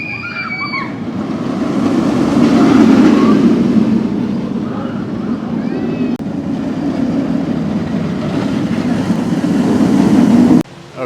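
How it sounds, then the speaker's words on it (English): A roller coaster rushes past with a loud, rumbling roar that builds and fades over several seconds, ending in an abrupt cutoff. "I'm going to catch a view of the coaster coming down here"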